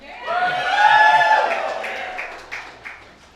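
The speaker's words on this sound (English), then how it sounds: "Crowd, get loud." An indoor crowd at a group-play selection ceremony cheers with rising whoops and shouts, and scattered claps follow as the noise tails off.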